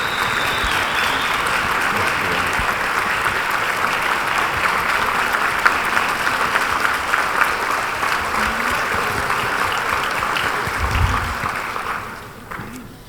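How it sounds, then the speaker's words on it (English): Conference audience at a general session gives a panel a warm round of applause, a dense, steady roar of many hands that holds for about twelve seconds before tapering off quickly at the end. "we're going to give this incredible panel a warm round of applause"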